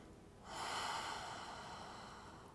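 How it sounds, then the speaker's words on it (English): A slow audible breath during a yoga forward fold, one long, soft airy exhale through the nose, close and quiet, fading gradually. "so take 3 breaths here"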